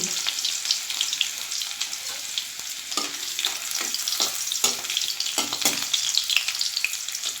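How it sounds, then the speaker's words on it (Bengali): Garlic cloves and two dried red chilies frying in hot oil, a loud, crackling sizzle up close with scattered pops and spoon scrapes running throughout, no voices. "রসুনটা আমি দিয়ে দিলাম আর এই শুকনো লঙ্কা দুটো দিয়ে দিচ্ছি"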